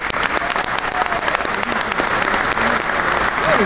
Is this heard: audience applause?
yes